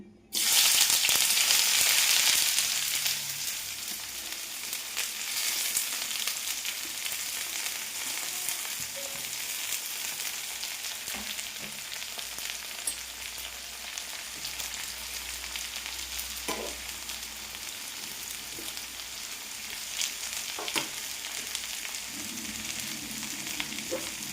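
Two sliced onions and curry leaves hit hot oil in a pan with a loud burst of sizzling that settles into a steady, dense frying hiss, with a few faint utensil clicks.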